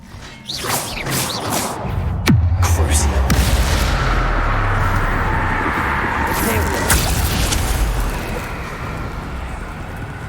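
The Bombarda spell goes off in Hogwarts Legacy: a whoosh, then a deep boom followed by a rumbling burst, all over a dense, loud game soundscape.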